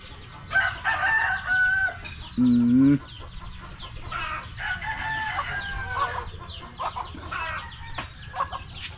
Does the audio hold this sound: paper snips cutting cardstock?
no